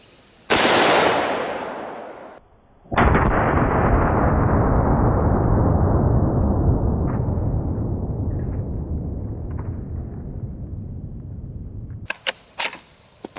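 A 6.5 Creedmoor bolt-action rifle fires a single loud, close shot into body armor at short range. A long rumbling echo follows and slowly fades over about nine seconds, with a few faint clicks and handling sounds at the end.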